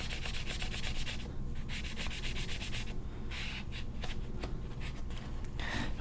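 A cloth rubs briskly over a Glock pistol to wipe away excess lubricant and fouling, a close, steady scrubbing and rasping texture with short pauses between strokes.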